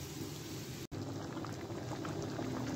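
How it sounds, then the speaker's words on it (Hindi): Soaked rice boiling in a pot for matar pulao, a steady close bubbling and simmering hiss that runs continuously, broken only by a split-second gap. "चावल पकना स्टार्ट हो गया है।"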